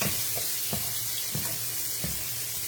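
Turkey wings sauté in a pan with a steady, dense sizzle and hiss, while a few soft taps and shifts come through at intervals. No one speaks.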